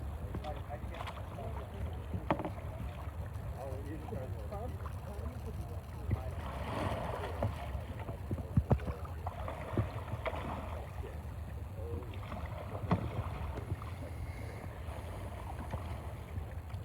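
Forward and reverse sweep strokes from a kayak paddle: soft, irregular watery swishes and splashes outdoors over a low wind rumble, with people talking throughout.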